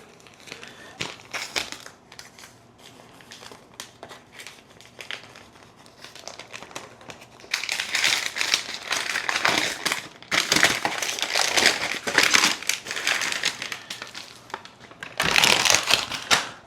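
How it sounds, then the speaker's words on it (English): A brick of 25 Lomo de Cerdo Robusto cigars is unwrapped from butcher paper packaging, with close, loud crinkling and crumpling that comes in bursts, building to sustained rustling in the second half. "they wrapped it up in the butcher paper packaging and then slapped a sticker on it."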